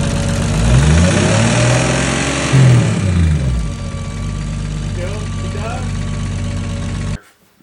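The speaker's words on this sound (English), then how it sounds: "it didn't sound good while revving it, and that was only like 2 grand" Phone recording of a turbocharged BMW E46 engine revving to about 2,000 rpm and sounding rough, a loud steady mechanical drone with a brief rise in pitch before cutting off abruptly.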